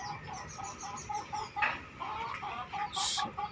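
Chickens clucking in a steady run of short repeated calls, close and fairly loud, with one brief sharper squawk near the end; a flock of young chicks is being raised.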